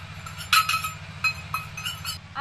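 Spoonfuls of powdered milk go into a bowl of semolina and flour, with several light, close clinks of a spoon against glass over a steady low hum; no one speaks.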